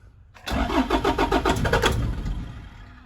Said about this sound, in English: I'm going to crank and just see what happens here.